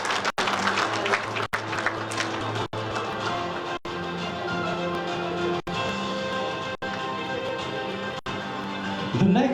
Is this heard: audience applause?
yes